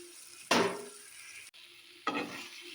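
Masala cooked down with yogurt in a pan, stirred in two sharp bursts of scraping and sizzling, each fading into a quiet simmer, close and fairly clear.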